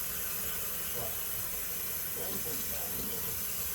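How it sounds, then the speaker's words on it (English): Ice cold water pours over potatoes in a kitchen, a steady, faint, even hiss of running water that continues unbroken throughout with no clear speech. "Throw some ice cold water on them"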